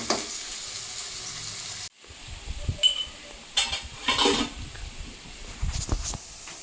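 Egg rice masala frying in a pan, a steady close sizzle broken by a short silence, then scraping stirs and light clinks of a spoon against the pan.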